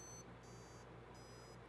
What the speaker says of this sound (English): I'm adjusting a little buzzer pitch with these little faders that are on here